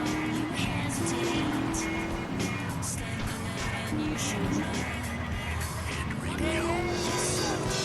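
The Banshee sports car in GTA 3 drives with a continuous loud engine roar that shifts pitch as it revs, mixed with road and game noise and skidding squeals, and a voice talks over it.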